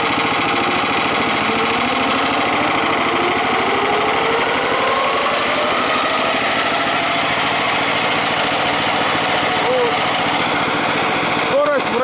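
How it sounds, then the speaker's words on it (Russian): A Zarya rotary mower on a walk-behind tractor runs at idle with its engine buzzing loudly and steadily as the discs spin up, a rising whine sweeping through the continuous drone. "Вот мы завели двигатель и раскручиваем."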